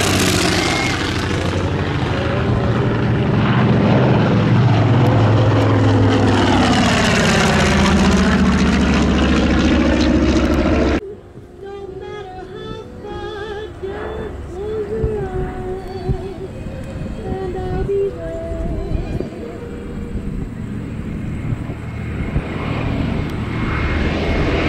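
A propeller warbird airplane drones loudly overhead at an air show, its pitch sweeping as it passes, then a quieter engine hum continues with background noise.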